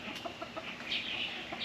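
Young American Buff chickens, about eight weeks old, cluck in short, soft, scattered calls at close range, with a few sharper chirps and no talking.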